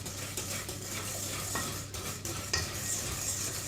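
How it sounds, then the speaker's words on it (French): A large cake batter being whisked vigorously in a bowl, giving quick, continuous close scraping and tapping strokes with a faint metallic edge, with no talk. "Qu'on va venir fouetter énergiquement."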